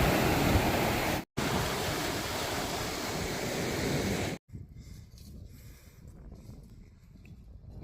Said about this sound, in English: Small cove beach, choppy waters